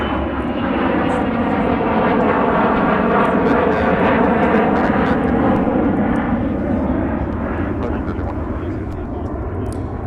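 An American Airlines jet departs MSP airport in Minneapolis, a loud sustained engine roar that slowly fades, with someone talking over it throughout.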